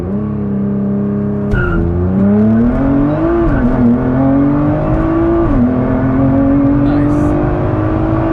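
A Nissan R35 GT-R launching under launch control: the engine holds a steady high idle, then surges loudly as the car leaps away, pitch climbing smoothly through the run with a shift break partway, heard from inside the cabin.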